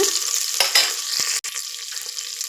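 Onions, green chillies and mint fry and sizzle in hot oil for tomato bath, a loud close crackle with a few stirring scrapes and one short break in the hiss.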